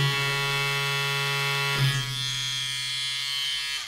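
Tattoo pen machine with a 4mm swash drive disc running at about 8 volts, giving a loud, steady electric buzz with a strong low hum and bright harmonics that shifts pitch slightly partway through.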